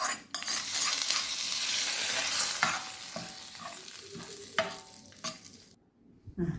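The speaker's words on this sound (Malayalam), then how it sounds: "കടുക് വറുത്തൊഴിക്കാം." A mustard seed tempering is poured into a pumpkin and bean koottupachadi and stirred in. A loud, close sizzle is broken by scraping stir strokes and fades to quiet near the end.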